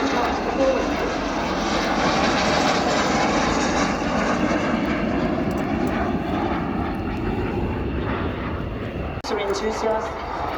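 Jet aircraft at an air show roar loudly and continuously overhead, a dense sustained engine wash that fades a little near the end before a sharp knock, with talk over the noise.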